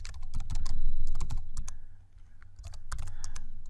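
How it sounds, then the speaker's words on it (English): Rapid clattering keystrokes on a computer keyboard as an entry is typed into a Python Tkinter program, close and continuous with a short pause midway, no talking. "you just type that in"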